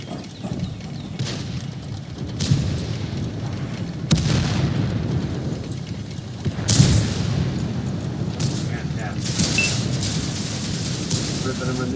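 A chain gun on a tank in World of Tanks fires in heavy bursts, producing deep booming thuds with rolling rumble at irregular intervals, loud and close, alongside battle noise.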